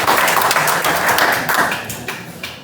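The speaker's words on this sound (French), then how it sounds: "on peut les applaudir" An audience at a business event breaks into applause, a dense burst of many clapping hands, loud and close, that tapers off over the final second.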